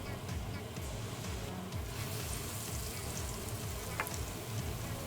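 Rosette batter fries steadily in hot oil, a continuous crackling sizzle with small bubbling pops throughout.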